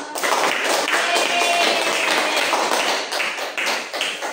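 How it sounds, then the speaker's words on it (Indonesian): Steady applause from a classroom group after student presentations in a microteaching lesson, a dense run of many hands clapping at once, fairly loud and continuous throughout. "berikan tepuk tangan untuk kita semua"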